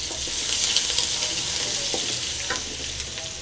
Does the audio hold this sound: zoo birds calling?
no